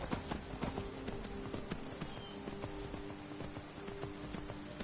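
Horse hooves pound in rapid clip-clop rhythm in the video game Skyrim, a quick run of sharp thuds, fairly close and steady, with faint rain-like patter beneath.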